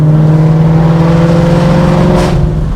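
A powerful Ford Mustang engine revs loudly and holds a steady, throaty drone close up, easing slightly toward the end.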